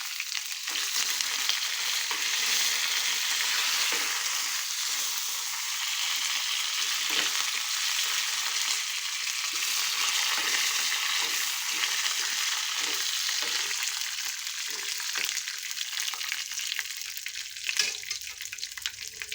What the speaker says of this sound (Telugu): పల్లీలను ఇట్లా వేగినాక పల్లీలు వేగినాక కరివేపాకు వేసుకోవాలి.